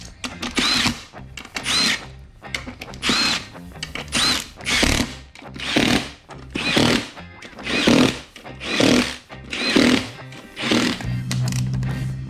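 Cordless power drill driving bolts into a beadlock ring on an off-road tire, about nine separate whirring bursts of a second or so each, close and loud, with short pauses between them.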